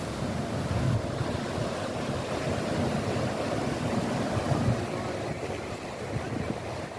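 Steady rushing surf with waves washing in continuously, a broad wind-blown roar at moderate distance.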